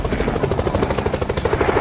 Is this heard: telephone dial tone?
no